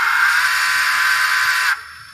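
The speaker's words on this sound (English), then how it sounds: "That's a great sounding whistle right there." A model steam train's whistle blows as one steady, shrill, sustained tone for close to two seconds and then cuts off sharply, leaving quiet background.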